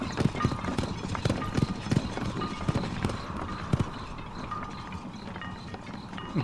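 Rhythmic clip-clop of horse hooves pulling a carriage in the medieval city-builder video game Noble Legacy, steady and fairly close, with faint mechanical creaks and rattles underneath.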